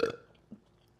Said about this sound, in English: All these burps are getting stuck in my stomach